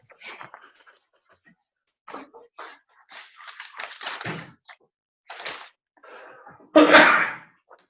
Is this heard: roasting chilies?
no